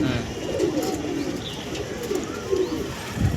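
Pigeons from an old bloodline, held at a home pigeon sale, give repeated low rolling coos close by, the calls rising and falling over a light background hum.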